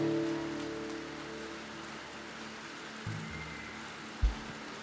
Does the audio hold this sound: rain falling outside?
yes